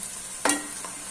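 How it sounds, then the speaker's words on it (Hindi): Onions with garlic-ginger paste frying in a pan, a steady low sizzle with a single brief louder scrape of stirring near the middle and a fainter one after, no talk. "जब तक प्याज लाइट ब्राउन हो जाएंगे तो ये लहसुन अदरक का पेस्ट जो है ये भी अच्छे तरीके से फ्राई हो जाएगा"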